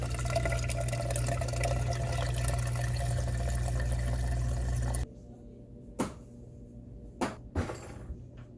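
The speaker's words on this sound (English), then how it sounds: "I think it already sounds a little better. You can see it draining." A dishwasher with a formerly clogged drain pumps water out, a steady close rushing gush for about five seconds that cuts off, followed by a few faint clunks and knocks.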